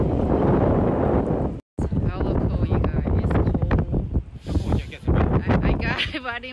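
Wind gusts across the microphone at San Francisco's Pier 39, a loud, rough rumble at first that keeps buffeting under people talking.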